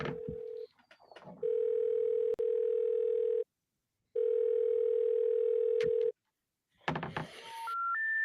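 A telephone handset gives a steady dial tone in long stretches broken by pauses and clicks, ending in a short rising three-note signal tone, with no talking.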